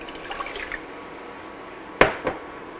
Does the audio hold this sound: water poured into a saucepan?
yes